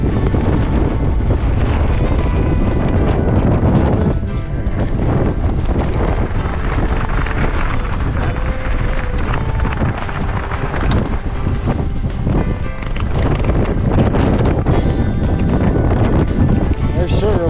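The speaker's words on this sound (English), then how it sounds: "Ooh, it's windy." Strong wind roars across the microphone on a mountain section of the Appalachian Trail in Maine, a loud, continuous buffeting rumble with gusty surges that never lets up.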